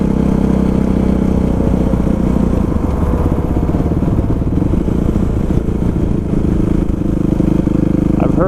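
Suzuki RMX450 motorcycle engine running loud and close, a continuous rough, throbbing mid-pitched drone that holds steady throughout without any speech.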